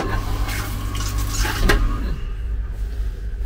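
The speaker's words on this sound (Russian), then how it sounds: "Отличный смыв." A vacuum toilet on a Russian Railways passenger train flushes with a loud rushing roar and a sharp clunk, then the surge fades into a softer, steady hiss.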